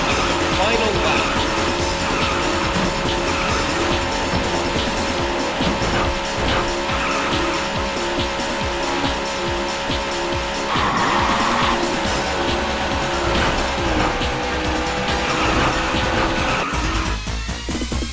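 Race cars roar in the arcade racing game Daytona USA on PS3, with loud, continuous engine drone and squealing, skidding tires under background music and an announcer's voice throughout.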